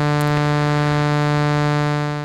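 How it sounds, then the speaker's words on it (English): A synthesized sawtooth-wave bass note held steady and buzzy with a rich stack of harmonics, loud and alone, fading slightly at the end. "The sawtooth wave sounds like this."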